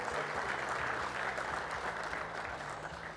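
Audience applause at a keynote talk, a dense steady clatter of clapping sustained throughout, fairly loud, with a low hum beneath.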